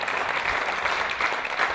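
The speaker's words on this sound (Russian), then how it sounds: "ваши аплодисменты" Audience applause after an improvised poetry duel at a comedy show, a steady dense wash of clapping filling the whole stretch at even loudness, with no voices over it.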